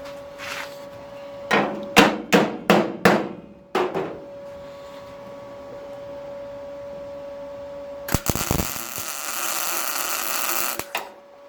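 A small hammer taps car body metal about six times in a quick, uneven series with a ringing tone, followed later by a loud steady roaring hiss of a gas torch.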